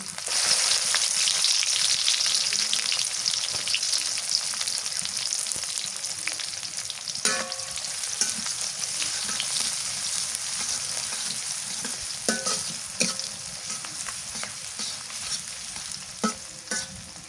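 Chopped onion sizzling in hot mustard oil with cinnamon and cloves, a steady bright crackle and hiss with occasional stirring clinks and scrapes, close and continuous without talk.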